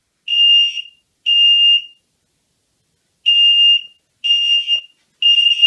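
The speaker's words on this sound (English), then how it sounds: "That red LED is indicating the alarm sound." Basement fire alarm system under test, sounding loud electronic horn tones in short bursts of under a second, separated by brief gaps and one longer pause, with no talking.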